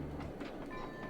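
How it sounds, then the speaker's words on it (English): A train passing in the video game Sly 2, a brief rumbling clatter with rhythmic clicks over a low drone, heard alone at moderate distance. "Trains."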